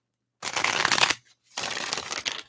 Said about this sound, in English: let's give these a good shuffle